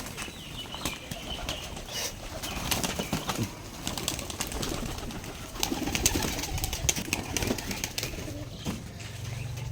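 Several Giribaz pigeons at a pigeon farm coo in low, throaty murmurs while wings flap and flutter in bursts nearby, a busy, close flock sound.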